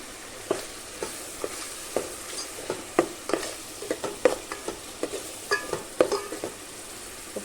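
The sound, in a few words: stirring onion paste with ginger and turmeric in a frying pan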